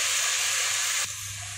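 Soy sauce poured into hot fried rice with chicken and egg makes a loud, steady hiss of steam and sizzle that drops off sharply near the end, close up and alone.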